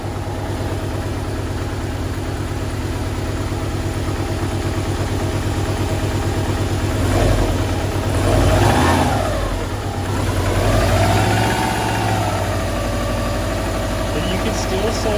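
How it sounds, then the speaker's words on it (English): A twin-turbo Subaru engine idles steadily nearby, then revs up in a few swells before settling back to idle, with occasional voices over the running engine. "She's idling. She's running."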